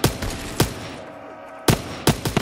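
Machine gun fire from an MG-81 in a Call of Duty custom zombies map set at a Roswell UFO crash: sharp loud bursts at the start and again near the end, with a quieter gap between them.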